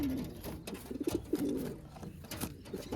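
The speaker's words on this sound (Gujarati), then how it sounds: "કબૂતર પણ અત્યારે અંદર છે અને બચ્ચા પણ અંદર છે" Pigeons coo softly in their nest with their chicks, a close, low, rolling warble repeating over faint background hiss.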